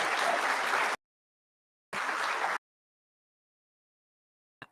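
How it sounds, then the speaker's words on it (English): An audience at a city luncheon, the 2021 Broken Arrow State of the City address, bursts into applause for the presenting sponsors in two short loud rounds of clapping separated by a pause of silence. "Let's give our presenting sponsors a round of applause."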